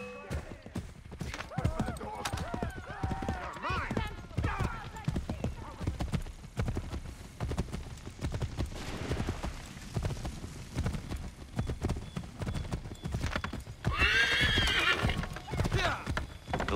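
A horse gallops with steady rapid clip-clop hoofbeats in the Assassin's Creed 3 video game, punctuated by a loud neigh near the end, with voices talking over the action.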